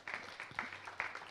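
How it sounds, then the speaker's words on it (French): Brief, faint applause from a small audience at a round-table discussion on biocontrol training, a few scattered claps in a short burst. "On se fait un petit plaisir et on les applaudit à nouveau"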